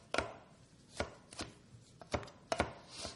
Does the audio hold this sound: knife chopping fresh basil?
yes